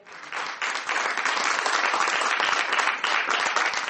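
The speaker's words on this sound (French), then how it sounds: "Des applaudissements pour Khaled" Sustained, dense applause from a crowd fills the whole stretch after a short fade-in, loud and close, celebrating Khaled passing his doctoral thesis in psychology. The clapping stays strong and even, with no voices.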